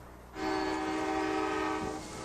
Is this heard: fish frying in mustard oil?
no